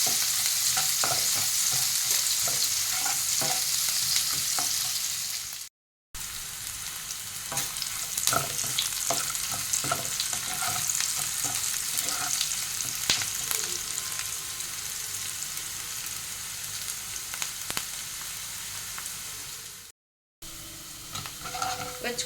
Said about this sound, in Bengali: একটা মাঝারি সাইজের পেঁয়াজ কুচি, পেঁয়াজটাকে লাল করে ভেজে নিতে হবে